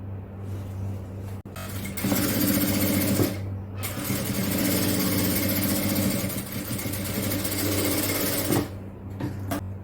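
A sewing machine stitches along a folded bag opening, its motor whirring in a steady, loud run with a short pause near the start and a brief stop near the end.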